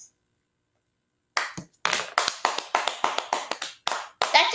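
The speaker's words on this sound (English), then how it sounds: "it's not like one of those, like, big applause, it's just like a beautiful clapping" A single pair of hands claps in a quiet room, about a dozen crisp, close claps in a loose, uneven rhythm after a brief silence.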